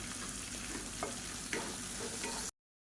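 Vegetables sauté with salt and turmeric in a hot pan for a drumstick theeyal, a dense continuous sizzle with occasional stirring scrapes that cuts off abruptly.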